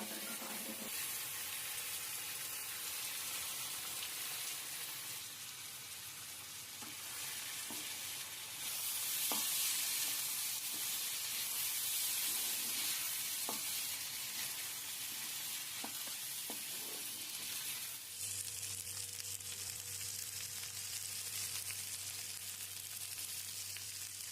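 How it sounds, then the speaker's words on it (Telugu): Sprouts are stir-fried in a pan with previously fried ingredients. A constant sizzle hisses under faint scraping and stirring knocks, and the frying briefly swells louder midway before settling into a steadier tone. "ఇప్పుడు దీంట్లోకి స్ప్రాట్స్ యాడ్ చేసుకొని మిక్స్ చేసుకోవాలి"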